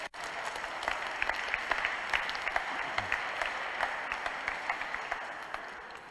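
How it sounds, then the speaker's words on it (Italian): A church congregation after a Mass claps together in sustained applause, a dense, steady patter of many hands with a few sharper individual claps standing out near the listener. "un applauso a tutti voi allora."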